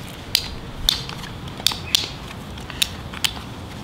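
Sharp plastic clicks and ratcheting snaps come close up as a push-down-and-twist cap on a herbicide bottle is worked open, about eight crisp ticks spaced irregularly over faint background noise.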